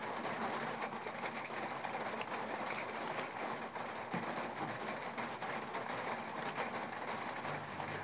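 A small train rumbles past continuously at moderate distance, a steady broad clatter with faint rhythmic knocks, heard from a spot where a meal of chicken curry, roti and rice is being eaten.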